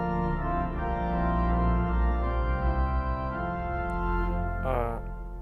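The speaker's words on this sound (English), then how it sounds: "And a mixture, of course." A mixture stop on a 1906 Felgemacher pipe organ sounds as a bright, dense chord that holds steadily for several seconds, then ends in a brief flourish of higher notes before it fades.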